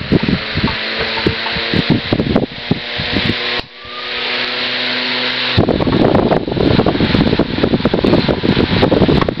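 A restored Seabreeze 7-inch table fan, model 6160, running: a steady motor hum and airy whoosh, preceded by clattery handling knocks, then a louder broadband rush of air in the second half, no talk.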